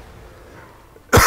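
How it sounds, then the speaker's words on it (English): One sharp, loud cough with a throat-clearing rasp bursts out abruptly near the end after a quiet, low background hum, close to the microphone. "you might hear me coughing a little bit and sounding a bit croaky"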